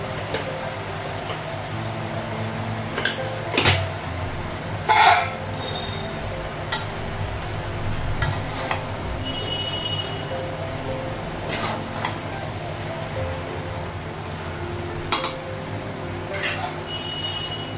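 Lid and utensil clinks on a cooking pot as Bengali-style jute leaf (pat shak) fry is covered and stirred, with scattered sharp metallic taps and scrapes over a low background hum in a home kitchen.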